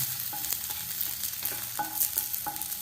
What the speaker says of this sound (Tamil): நல்லா இந்த மாதிரி ப்ரௌன் கலராக வர வரைக்கும் நல்லா வதக்கிடணும்